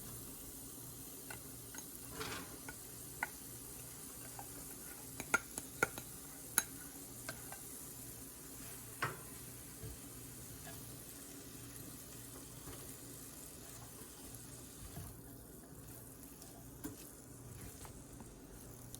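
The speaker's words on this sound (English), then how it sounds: "Now add in the boiled rice and mix everything really well." Boiled rice being stirred into vegetables seasoned with dark soy sauce and chili vinegar in a pan for Indo-Chinese street-style fried rice, giving faint scraping and soft sizzling with scattered spatula clicks throughout.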